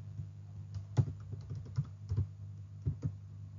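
Keys on a computer keyboard are tapped in a few soft, irregular clicks against a low background hum, faint and close, with no talking.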